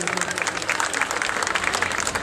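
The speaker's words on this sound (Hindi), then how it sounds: "जोर जोर एक बार तालियां बजा दीजिए।" A crowd at a public gathering, a fast event, claps and cheers, a dense, continuous burst of applause heard close and loud throughout.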